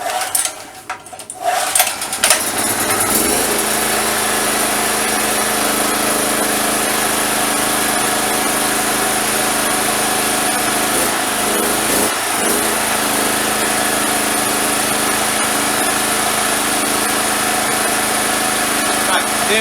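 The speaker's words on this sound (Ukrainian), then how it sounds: "Включаємо зжання, заводимо." A petrol generator fitted with an exhaust pipe is started after ignition is switched on, catching after a few seconds and settling into a steady, loud running drone that continues with a brief dip partway through.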